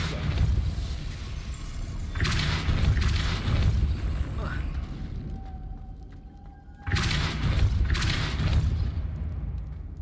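The Depulso spell cast in Hogwarts Legacy sounds as two loud whooshing blasts with a booming low rumble, a couple of seconds apart, with a faint tone held between them.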